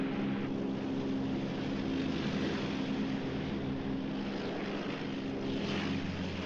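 Sea Eagles helicopter rotor blades beating during close formation flight, a loud, steady, continuous droning throb with layered engine hum, alone and without pauses.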